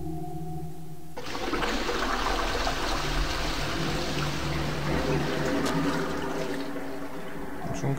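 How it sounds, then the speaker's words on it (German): Water gushes out in the video game Blood Omen 2, a loud rushing, sloshing flow that starts abruptly and pours steadily without pause. "Hier das Wasser wieder rauslassen."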